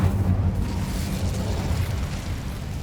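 The Incendio fire spell in Hogwarts Legacy goes off as a sustained whooshing, rumbling burst of flame, strongest at the very start and roaring steadily after, close and loud with no voices.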